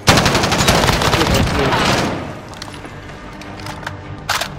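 Gunfire rattles in Call of Duty: Modern Warfare Warzone: dense automatic bursts for about two seconds, then fading to quieter scattered shots and one more short burst near the end.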